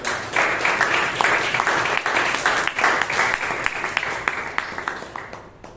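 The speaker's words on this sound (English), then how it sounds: "A much bigger round of applause to our general evaluator and to the entire team of evaluators" Applause from the audience at a Toastmasters club meeting in Bangalore, steady dense clapping for the evaluators that runs throughout and thins slightly toward the end.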